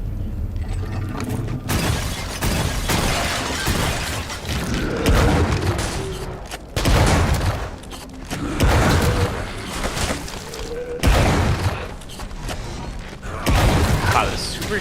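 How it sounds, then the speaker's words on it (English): A super shotgun fires in the retro shooter Wrath: Aeon of Ruin, with loud, close, booming blasts every two seconds or so, each followed by mechanical clunks and reload clatter over busy in-game noise. "Wow, the super shotgun of this game is really good."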